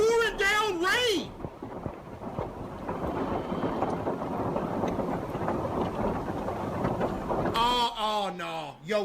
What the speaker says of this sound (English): And it's pouring down rain